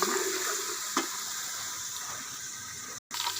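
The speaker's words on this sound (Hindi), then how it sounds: "अगर आप देख लीजिए कि ये फ्राई हो रहे हैं ऑयल में" Mongre and potatoes frying in oil in a pan, a continuous close bubbling sizzle with one faint clink and a brief dropout near the end, no talk.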